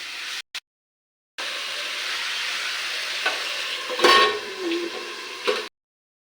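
Flat beans and potatoes fry in oil for sim aloo bhaja, giving a loud continuous sizzle close by, with occasional scrapes and clanks of a utensil stirring the pan after a brief silent start.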